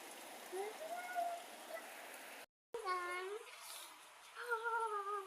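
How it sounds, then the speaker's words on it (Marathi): Steady rain patters in the background while a voice chatters over it, with a brief dropout midway. "त्या समोर खिडकीतनं पण तुम्हाला मी पाऊस कसा पडतोय ते दाखवतो"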